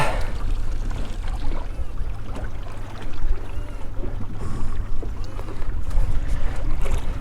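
A boat motor runs on a reef fishing trip as a steady broadband rumble with water wash and wind buffeting, loud and continuous, no talking.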